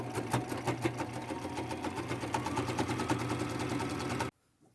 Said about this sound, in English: Now I'm going to do a top stitch about 1/8 of an inch down all the way across